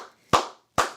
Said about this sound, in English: I'm going to clap it up again